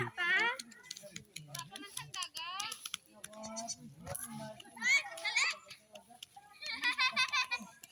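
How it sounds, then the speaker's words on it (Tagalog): Goats bleat repeatedly in a wavering chorus while children chatter and play nearby, outdoors with a busy, lively mix of voices and animals. "Daming kambing."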